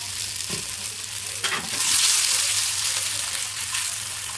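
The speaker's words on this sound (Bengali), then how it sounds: "একটু জাস্ট এইভাবে নাড়িয়ে চাড়িয়ে সবগুলো আমি একবারে দিয়ে দেবো" Fried balls are stirred in a small pan, giving a loud, continuous oil sizzle with a few spoon scrapes near the start and a swell of frying hiss midway.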